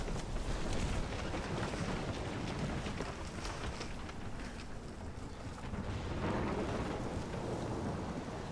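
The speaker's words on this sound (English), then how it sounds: "I've never seen a storm like this" Thunderstorm with heavy rain in the video game Life Is Strange, a continuous low rumble of thunder under a steady hiss of rainfall and wind, fairly quiet and unbroken with no voices.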